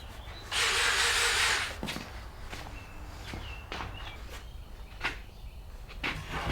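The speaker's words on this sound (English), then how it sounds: "Throw some screws in it" A power drill drives screws into a wooden ladder hanger, one steady whirring burst of about a second, followed by faint scattered knocks and shuffling nearby.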